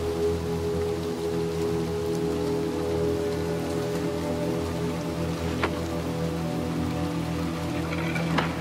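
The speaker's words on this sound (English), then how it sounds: "out in the rain." Steady rain pours down in the video game Little Nightmares 2, a continuous close patter on surfaces with a low ambient hum beneath and no talk.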